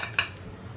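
Dishes are washed at a kitchen sink, with a couple of cups among a few pots, and one brief clink of crockery rises over steady running water.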